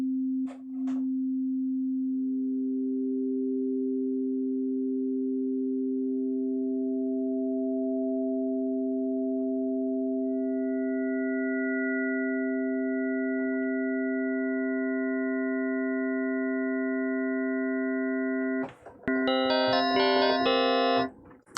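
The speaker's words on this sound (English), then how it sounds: "So we can already hear ring modulation has something of a metallic sound to it" Korg Opsix synthesizer with ring modulation: a steady sustained tone gains layered harmonic partials step by step, turning bright and metallic, then a dense clangorous burst of inharmonic overtones near the end. No talking.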